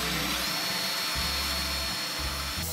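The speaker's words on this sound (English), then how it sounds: "Using the 3/16 inch bit, I drill the first pilot hole." A cordless drill with a 3/16 inch bit bores a pilot hole for a bolt-on tooth bar, a loud steady whirring buzz that briefly dips and surges, close up with no speech.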